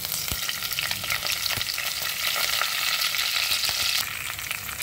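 A tempering of mustard seeds, cumin, urad dal, green chilies and curry leaves crackles in hot oil, a dense close sizzle with scattered pops and a few stirring clicks.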